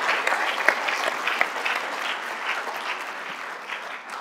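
A school audience applauds itself in a dense, continuous round of clapping from many hands, steady and moderately loud with a slight taper toward the end.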